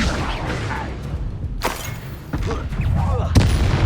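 Confringo blasting spells in Hogwarts Legacy burst as sharp, loud explosions, a couple of distinct cracks standing out above a busy, rumbling combat backdrop, with voices talking through the fight.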